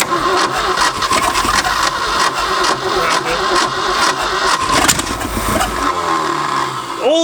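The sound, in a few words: abandoned Ford F250 engine starting after 26 years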